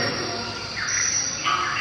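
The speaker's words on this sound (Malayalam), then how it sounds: "വിവിധതരം പക്ഷികളുടെയും മൃഗങ്ങളുടെ ശബ്ദം" Layered forest bird calls, including koels and shikras, and a steady insect-like trill over a constant background hum, with a few higher whistled notes standing out.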